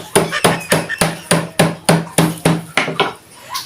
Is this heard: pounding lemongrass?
yes